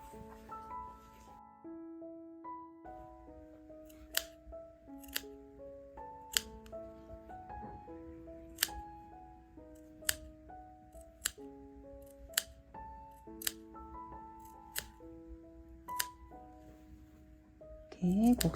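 Scissors snip notches into the curved seam allowance of sewn fabric for a snowflake vest, a series of sharp, evenly spaced quiet clicks over faint background tones.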